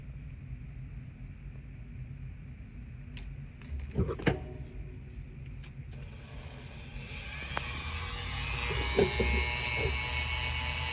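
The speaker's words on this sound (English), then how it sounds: "Here I'm just taking the Dremel and fine-tuning the end that I'm about to attach to the rifle" A Dremel rotary tool grinds an aluminum part for a modified toy rifle, starting quietly with a few clicks and thumps, then rising into a steady high whine that continues to the end.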